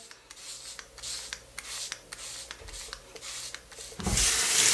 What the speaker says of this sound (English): Do want to let you guys hear how it's cutting though.